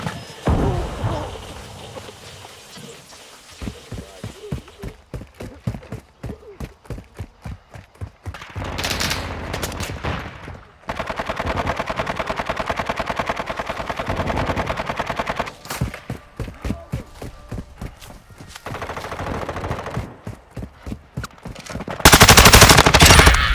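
Gunfire in Call of Duty: Modern Warfare II, rapid automatic bursts rattling steadily for over twenty seconds, broken by a few louder crashing hits and a heavy blast at the close.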